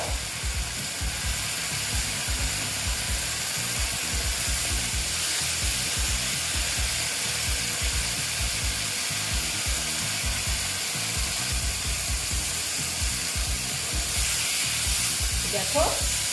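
Small fish coated in masala sautéing in a pan, a steady close sizzle with dense scraping stir strokes running throughout, loud and continuous with no talking.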